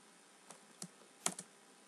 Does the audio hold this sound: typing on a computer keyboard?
yes